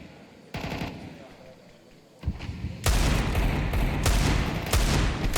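Rapid gunfire bursts from a Counter-Strike match at the IEM Cologne Major, loud and dense, with several overlapping volleys after a quieter opening, some low thuds mixed in.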